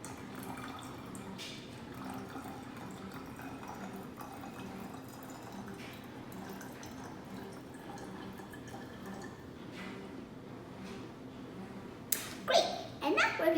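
Water trickles from a water bottle into a small container, a faint steady pour over background noise that ends in a few louder splashes and drips.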